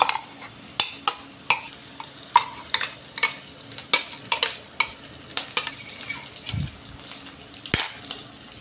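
Masala cooks down with tomato paste in a pan for paneer masala. A spoon scrapes and knocks against the pan in a steady, rhythmic series of strokes over a soft, continuous sizzle, with no talking.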